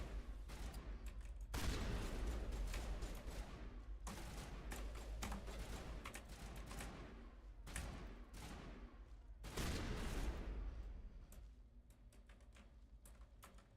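Shotgun blasts fire in the Mass Effect video game, loud bursts of repeated shots in quick volleys with rattling mechanical clatter between them, no talking.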